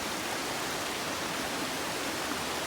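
A waterfall roars in a steady, unbroken broadband rush, loud and close, with no voices.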